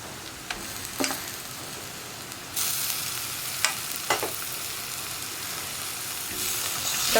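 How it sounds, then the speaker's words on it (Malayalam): Tomatoes stirred into onions and spices frying in a pan, a steady soft sizzle broken by several scraping stirs of the spoon, close by with no talking. "തക്കാളി ചേർത്ത് വീണ്ടും നന്നായിട്ട് ഇളക്കുക."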